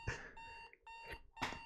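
Electronic alarm clock ringing in a Doki Doki Literature Club mod, bursts of rapid high beeping repeated three times with short gaps, fairly faint and alone.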